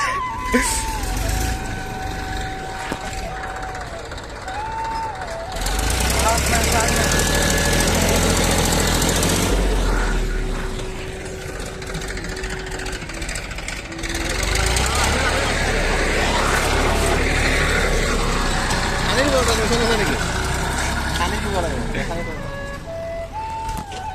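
A loud, rumbling tractor engine runs steadily throughout at a dry riverbed, chugging and knocking like heavy machinery, with voices talking over it at times.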